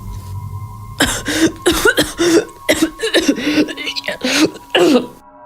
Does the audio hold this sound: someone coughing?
yes